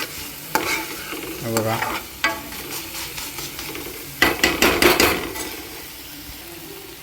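Tomatoes frying in a pan for a prawn masala while a utensil stirs and scrapes them, giving a steady sizzle broken by clanks of metal on the pan; a voice speaks briefly.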